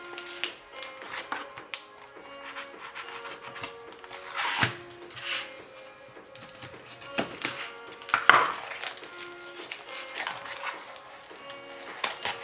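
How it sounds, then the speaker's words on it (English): A knife cuts beef sausage on a board, with irregular taps and chops knocking against the wood, some louder strikes standing out over a quiet background hum. "let's cut the sausage like also a stick. Just cut on the half."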